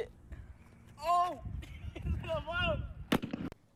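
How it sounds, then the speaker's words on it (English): An overinflated basketball bursts with a sharp, loud bang like a gunshot near the end, following excited shouting voices. "These people tried overinflating a basketball."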